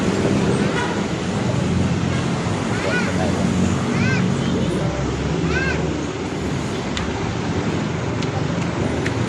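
Busy road traffic heard from aboard a jeepney, a steady loud rumble of engines and road noise with a few short horn or whistle-like chirps and people talking nearby.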